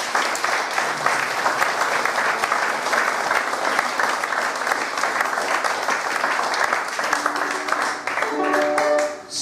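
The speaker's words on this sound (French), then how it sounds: "Applaudissements tout le monde, s'il vous plaît." A concert audience in the Moulins media library applauds steadily and loudly, with thick sustained clapping that carries through to the end, where a few tonal notes and voices come in.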